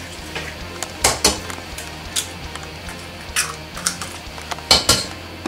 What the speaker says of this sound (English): 1 cup of sugar, 1 vanilla sugar and 4 eggs, mixing together